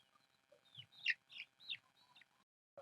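Chicks and fowl on a farm making soft clucks and short chirpy calls, several in a row at close range with quiet gaps between them, no talk.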